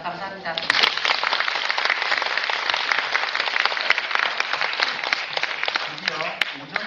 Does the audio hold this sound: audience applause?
yes